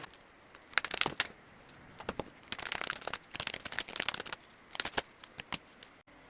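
Oracle cards are shuffled and drawn, giving rapid papery riffles and flicks in irregular bursts, close and moderately loud, with no talk.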